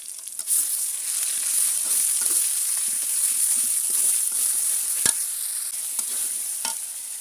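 Ground spices with dried chili and cumin paste sizzling in a wok, a continuous bright hiss up close with soft irregular stirring scrapes and a couple of sharp clinks near the end.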